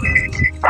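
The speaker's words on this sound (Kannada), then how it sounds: "ನಮ್ಮ ನಾಯಿ ಟಗರಿ ಬೆಳಾಗತೈತಿ ನೋಡ್ರಿ" A herding dog near a flock of sheep lets out a quick, loud pair of sharp barks at a ram, followed by a brief yip.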